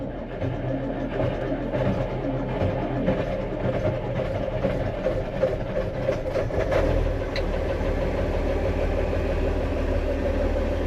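A diesel engine runs steadily at idle throughout, a low continuous rumble with a faint rattle, close by and fairly loud.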